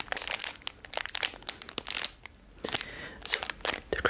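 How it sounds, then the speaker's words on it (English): Close, intense crackling and crinkling of a thin plastic bag wrapped around a small key accessory, in quick irregular bursts with a short quieter pause midway. "the crackling sounds it's with the plastic bag"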